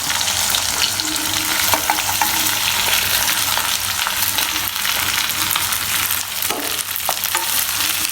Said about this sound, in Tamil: இது ஒரு 5 நிமிஷம் ஃப்ரை ஆகணும். நல்லா ஃப்ரை ஆகட்டும்.